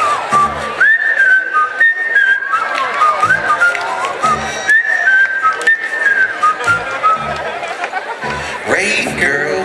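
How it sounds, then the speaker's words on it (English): A person whistles the Andy Griffith theme, a bright, bouncy tune, clear and close, with short pauses between phrases and faint chatter in the background. "All rise for the whistling of Andy Griffith."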